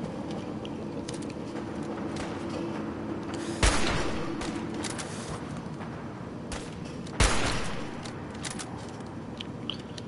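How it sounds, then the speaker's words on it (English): Gunfire in the video game Fallout 4, two sharp distant bangs a few seconds apart over a low ambient background, with fainter scattered shots between them. "I'm hearing gunshots."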